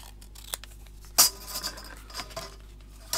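Scissors snipping paper for a journal mood board, a few faint, sparse clicks and one sharper snip in a quiet room.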